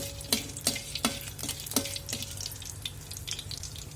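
Stirring something roasting in a little oil in a pan for misal: rhythmic scraping strokes of a spatula, about one every half second, over a soft steady sizzle, close and fairly quiet.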